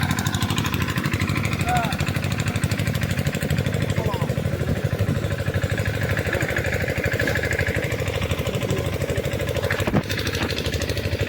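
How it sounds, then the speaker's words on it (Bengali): A small engine-driven irrigation water pump runs with a steady, droning chug close by in a riverside crop field watering a field, while a voice talks over it. "এই তো বন্ধুরা, এটা হলো জল দেওয়া মেশিন।"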